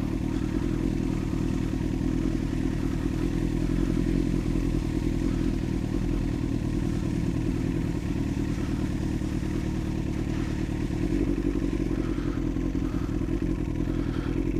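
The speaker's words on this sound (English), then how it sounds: "Picking up a little bit of speed on the bike, then bringing the clutch in and letting it roll." A motorcycle coasting with the clutch in on an icy, snowy road, a steady loud low rumble of wind and rolling noise with faint clatter, continuous throughout with no talking.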